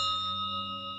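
A bell rings as a single sustained, shimmering tone from a television episode of Fringe, steady and bright with a slight fade at the end.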